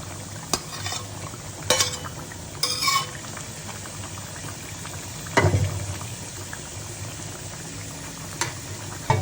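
Cauliflower and catla fish curry simmering in a pot on the stove: a steady low bubbling with a few sharp clinks and scrapes of a spoon against the pot, no talk.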